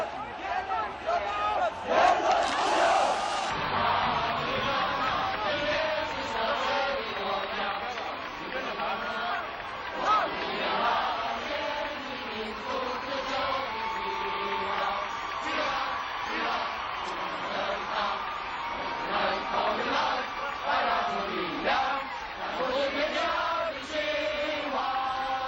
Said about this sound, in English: Tens of thousands of students responded by crowding the streets, singing, chanting, cheering, and creating a jubilant noise that was deafening.